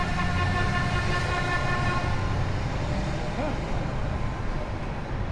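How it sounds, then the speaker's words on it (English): A New York City subway train rumbles past in Lower Manhattan, a steady loud rolling roar with a brief tonal horn-like squeal riding over it, heard from the street. "And to hear that train, because remember, the subways run 24/7. So you're going to hear that noise all the time."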